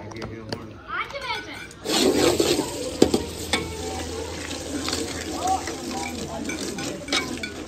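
A spoon stirs and scrapes through salted ingredients in a cooking pot for chicken karahi, with wet clinking and mashing sounds close by under continuous talking.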